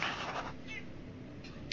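A cat gives a couple of short meows, fairly close and moderately loud, against a steady noisy indoor background.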